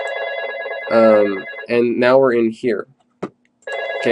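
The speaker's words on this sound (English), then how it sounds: "Sorry for the phone, just ignore that." Telephone ringing with repeated electronic rings in bursts, loud and close, partly overlapping a person talking.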